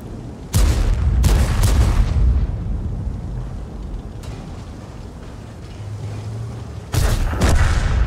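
Tank cannon fire in a World of Tanks battle, several heavy booming shots in separated bursts over a rumbling low battlefield background, some louder and closer than others.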